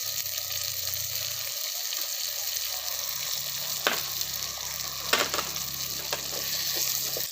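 Tomatoes sautéing in a pan for Tamil vathal kuzhambu, a steady soft sizzle and frying hiss with a few scraping stirs and clinks, close and fairly quiet, with no voice.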